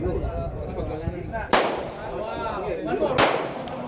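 Firearms going off at a shooting range, two sharp loud reports a couple of seconds apart, each with a ringing decay, over a constant background of murmur and wind.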